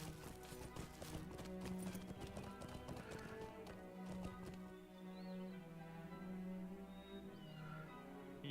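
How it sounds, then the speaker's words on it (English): Rhythmic hoofbeats of a ridden horse in the Lord of the Rings Online game clop steadily and close, a brisk regular gait running throughout over soft game ambience and music. "Might as well get on my horse anyway."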